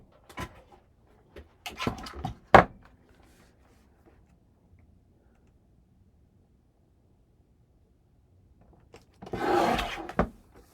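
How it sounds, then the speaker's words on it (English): A burnishing tool rubs across the back of scrapbook paper, producing short scraping strokes near the start and a longer rasping rub toward the end, close up with quiet gaps between. "I'm going to take my tool and burnish on the back."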